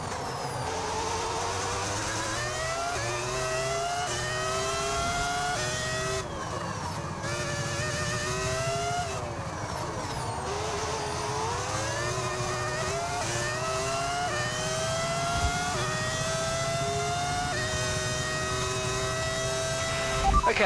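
F1 race car with a V10 engine in a racing video game, shown at the Dutch Grand Prix, revs continuously and loudly, its rising and falling harmonic whine repeating through gear changes over about twenty seconds with no talk.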